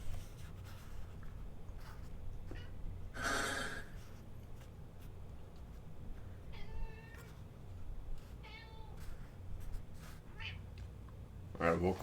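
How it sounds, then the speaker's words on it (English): A cat meows a few short times, mid-distance, amid game ambience and low background rumble in Final Fantasy XVI, with a brief louder cry near the start and another at the end. "Alright, welcome Kid Cat."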